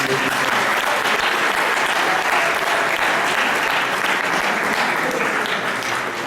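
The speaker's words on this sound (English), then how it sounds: "A round of applause for us." Steady, loud applause from a large crowd, continuous clapping filling the whole stretch without pause.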